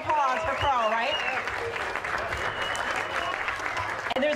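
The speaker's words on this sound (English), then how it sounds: "Huge round of applause for Carl, right?" Audience applause at a charity classic event, steady clapping from a crowd sustained throughout, with a voice speaking briefly over it at the start.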